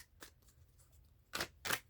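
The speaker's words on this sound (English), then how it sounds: "Shuffling the cards right now" Tarot cards being shuffled by hand, a faint, close series of soft papery snaps, with a small flick early on and two sharper bursts near the end.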